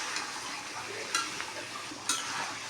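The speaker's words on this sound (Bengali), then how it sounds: "মাংসটা নেড়ে চেড়ে মিশিয়ে দিচ্ছি" Meat being stirred and fried in a pan gives a soft, steady sizzle with a few light scraping clicks of the spoon, faint and without voices.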